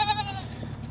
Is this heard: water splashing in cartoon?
no